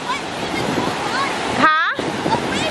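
Ocean surf rushes steadily at Myrtle Beach, a broad continuous wash close to the microphone, with a short break where children's voices cut in near the end.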